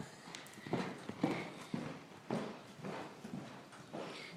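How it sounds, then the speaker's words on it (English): Barrel horse cantering: faint, rhythmic hoofbeats in repeating three-beat groups on soft ground, heard from a short distance. "She's cantering."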